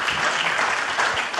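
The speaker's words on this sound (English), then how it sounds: "So round of applause for Emma." A panel session audience gives a brief, full round of applause, a thick continuous burst of clapping from many people, fairly loud and close.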